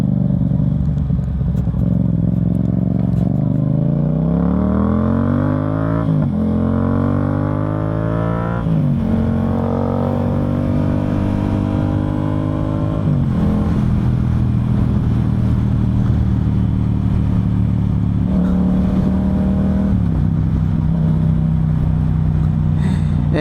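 Yamaha MT-07 motorcycle with an Akrapovic full exhaust system, untuned, revving loudly and steadily up and down through repeated throttle blips, a deep throaty twin-cylinder drone held close throughout with no talking.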